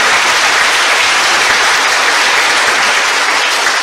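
A congregation at a church gathering gives loud, sustained applause, a dense, even wash of many hands clapping throughout with no speech on top.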